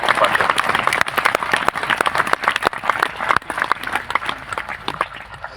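An audience at a devotional gathering claps steadily, with sharp individual claps standing out over a dense crowd patter and faint voices underneath.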